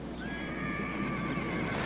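A horse whinnies once in a drawn-out, wavering neigh lasting under two seconds, heard close against a steady outdoor background rumble.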